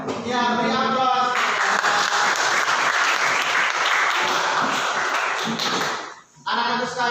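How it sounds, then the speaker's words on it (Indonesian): A class of schoolchildren claps hands in sustained, dense applause for about five seconds before it fades. An adult voice speaks briefly before and after. "beri aplaus"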